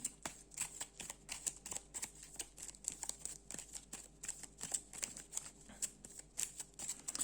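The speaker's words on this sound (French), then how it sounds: "les cartes et on les mélange" Playing cards for The Loop, a solo board game, riffled and shuffled in a rapid, steady run of crisp papery bursts, close and fairly quiet, with no one talking.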